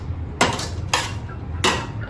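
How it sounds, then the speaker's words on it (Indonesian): Metal camping cook pots, a frying pan at the bottom with a rice pot nested in, clank as they are stacked together; three sharp metallic knocks sound close by, spaced out, each with a brief ringing tail. "Jadi yang paling bawah itu adalah panci penggorengan."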